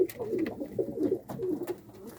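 Several pigeons coo in soft, rolling low calls, overlapping in a steady murmur with brief gaps between phrases.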